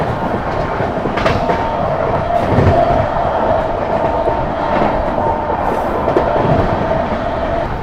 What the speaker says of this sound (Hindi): अब बनाई ना रफ्तार मऊ ने भाई, मऊ आनंद विहार ने